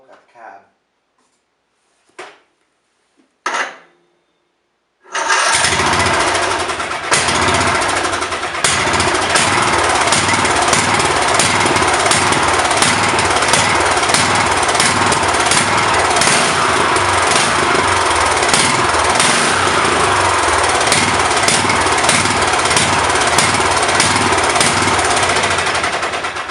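A Murray riding lawn mower fitted with a new exhaust cranks a few times, then catches and runs steadily, its loud, rattling engine drone holding constant for over twenty seconds.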